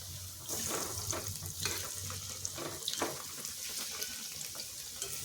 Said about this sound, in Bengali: পকোড়াগুলো মুচমুচে করে ভেজে নেব